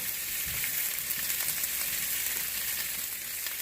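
Onions and peppers frying over low heat in a pan for fajitas, a steady close crackling sizzle that holds constant throughout with no voices.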